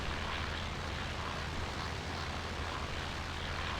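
Steady, dense drone of a Hansa-Brandenburg W12 World War I floatplane engine in the flight sim Rise of Flight, a continuous loud rumble with no breaks and no talk.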